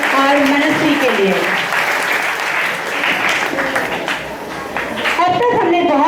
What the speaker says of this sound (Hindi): तो एक बार जोरदार तालियां हो जाए श्री केशव सर और मनस्वी के लिए।